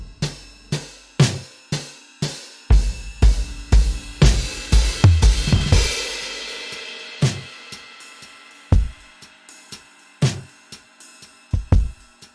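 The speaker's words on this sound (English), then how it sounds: "And we're going to learn how to turn these drums into something that sounds like this." Acoustic drum group given big, dry post-processing, with punchy, loud kick, snare and tom hits in a groove building into a busy fill, then spaced hits over a washing cymbal.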